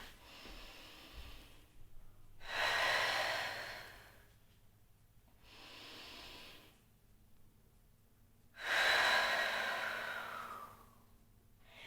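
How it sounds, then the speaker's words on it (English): Slow, deep breathing of a person resting in child's pose during a warm-up, with long airy inhales and sighing exhales alternating close to the microphone in otherwise quiet surroundings. "You can sit back into a child's pose, take a couple deep breaths."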